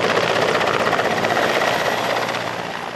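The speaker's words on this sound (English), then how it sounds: "3 helicopters have been called into action, including 2 from neighboring Azerbaijan." Firefighting helicopters work over a wildfire in southern Georgia, with rotor chop thudding in a steady, close pulse that fades slightly toward the end.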